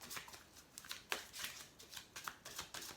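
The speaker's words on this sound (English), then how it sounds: "Has to stop shuffling." Tarot cards being shuffled in quick, papery riffles and flicks, soft and close, with an uneven rhythm of short bursts and no voices.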